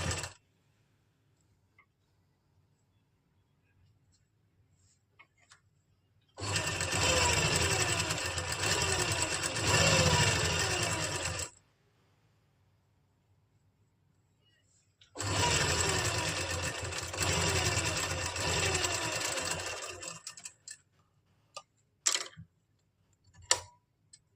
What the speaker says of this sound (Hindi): यहाँ से निशान के ऊपर से सिलाई लगाना स्टार्ट कर देंगे